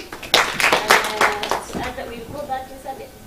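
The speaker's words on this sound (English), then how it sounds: "Let's clap for him." An audience claps after a faculty talk, a brief burst of scattered hand claps that fades within a couple of seconds as talk continues over it.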